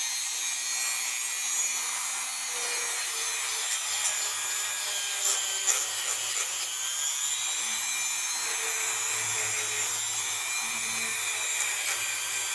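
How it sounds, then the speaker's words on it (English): A brass brush scrubs a dirty aluminum carburetor housing on a Craftsman walk-behind trimmer, producing a continuous bristly rubbing that stays steady and fairly loud throughout. "See if we can clean this out a little bit. Pick a brass brush."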